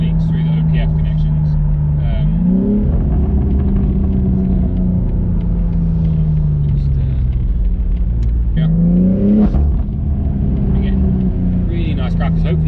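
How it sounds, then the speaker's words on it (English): A BMW G83 M4 with a titanium exhaust revs loudly up close, its deep exhaust note rising and falling in two sharp surges with crackling pops, a voice speaking over it. "You've got really nice crackles."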